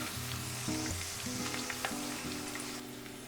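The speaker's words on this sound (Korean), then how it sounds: "볶음팬에 식용유 4분의 3컵 넣고 대파 약간, 생강 3쪽, 월계수잎 2장 넣고 약불에서 향을 우려냈다." Green onion, ginger slices and bay leaves frying in about three-quarters of a cup of cooking oil in a wok over low heat, giving a steady, soft sizzle with a few light stirring clicks.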